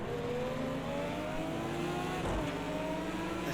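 Race car engine in Project CARS 2 at Monza, a steady high droning roar that climbs slightly in pitch as the car accelerates down the straight, continuous and close.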